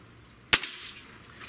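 A single sharp crack of a .30 caliber air rifle, a Gamo Swarm Magnum or Hatsan 135, close and loud, with a brief echo trailing off afterward.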